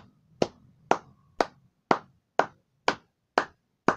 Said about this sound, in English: I think we just have to clap for like 2 minutes